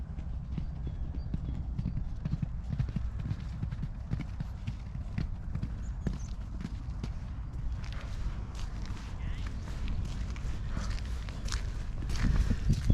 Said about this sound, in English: I'm not mad keen when the horses start sprinting around.